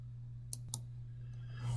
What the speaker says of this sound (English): go ahead and double click the VM to launch it